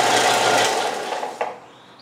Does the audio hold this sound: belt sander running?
yes